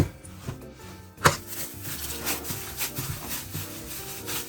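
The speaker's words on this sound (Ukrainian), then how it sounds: "тепер сюди висипаю манку, перемішую все" Semolina is stirred into a curd dough in a bowl, heard as soft, close rubbing and scraping strokes with one sharp knock near the start.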